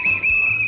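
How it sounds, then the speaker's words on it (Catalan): A lifeguard at a swimming pool blowing her whistle, a single loud, steady shrill tone held for under a second. "La socorrista i el seu xiulet"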